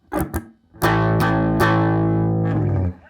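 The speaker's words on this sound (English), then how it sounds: "It's the power chord, like this." Two quick muted strums on an electric guitar, then a sustained power chord ringing out, restruck a couple of times before fading.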